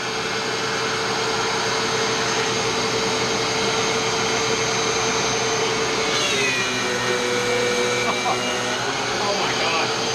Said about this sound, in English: Dust collector, machine.